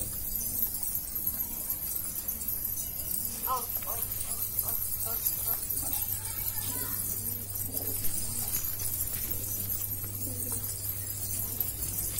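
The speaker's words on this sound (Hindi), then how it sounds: "अभी फिलहाल इतने कबूतर उड़ रहे हैं मेरे पास।" Pigeons from a backyard flock in flight outdoors, a continuous wash of flapping and soft cooing with a few brief sharp calls midway, fairly distant and steady throughout.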